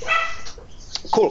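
A puppy barks at home in a short yapping burst at the start, with another bark near the end, a voice briefly speaking in between.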